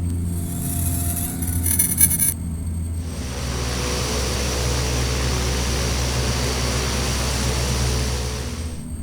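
Carenado Cheyenne III turboprop in a flight simulator, a steady droning engine hum with low rumble held throughout at constant level, with a brief brighter whine near the start that drops away.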